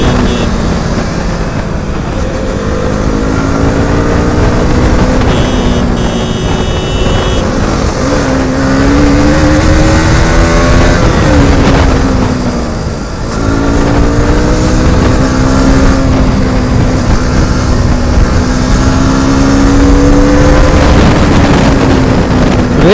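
Several motorcycles, among them a KTM RC390, a Duke, a Pulsar NS200 and a Royal Enfield Bullet, race past at speed. Loud engines whine and shift pitch while wind buffets the microphone, and no one speaks.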